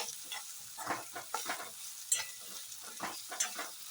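Chopped ridge gourd being stirred and sautéed in a pan, with quiet sizzling under repeated scraping strokes of a spatula, close and fairly soft.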